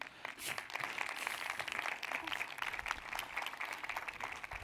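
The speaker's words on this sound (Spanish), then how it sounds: "ahora ya podéis aplaudir si queréis" Audience applause at the end of a conference talk on ransomware, moderately faint and steady clapping from a seated crowd, with some talk mixed in.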